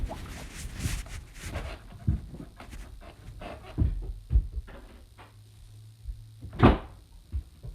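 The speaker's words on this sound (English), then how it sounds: "I just gotta go get up and close the door" A door shuts indoors amid scattered bumps and shuffling footsteps, with a sharper closing thud standing out near the end, all fairly quiet and close with no talking.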